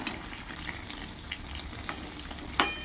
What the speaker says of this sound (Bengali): ভালো করে একটু মিশিয়ে নেব সমস্ত পদটা